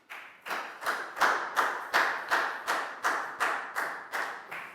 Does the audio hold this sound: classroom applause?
yes